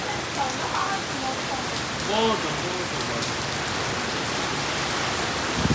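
Heavy rain pours down steadily in a dense, constant hiss on surfaces nearby, with faint voices briefly under it.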